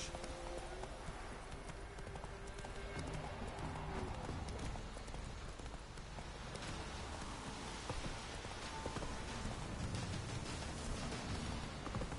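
Roach the horse trotting in The Witcher 3, with rhythmic hoof clip-clops running throughout over rain, close and steady, with a faint voice in the background.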